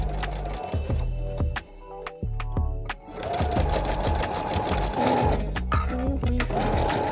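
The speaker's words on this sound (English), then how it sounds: "The zigzag stitch works the best so that the fabric stays nice and stretchy." Sewing machine running steadily in zigzag stitch through stretchy fabric for a cosplay costume, with a rapid mechanical needle rhythm, brief pauses and restarts, loud and close with music playing behind it.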